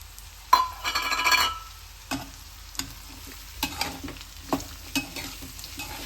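A spoon stirs ground coconut and chili powder into a sizzling dish in a pan, scraping in spaced, close strokes over a soft frying crackle, with an occasional clink against the metal.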